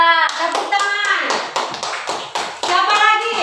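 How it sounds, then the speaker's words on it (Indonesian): Children in a classroom clap their hands together in a brief, loud burst of rapid, uneven claps, with voices mixed in among the clapping. "Ya, tepuk tangan."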